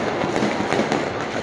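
New Year fireworks going off outside in Dubai, a dense crackling rattle of rapid bangs heard from a distance, continuous through the brief moment without voices.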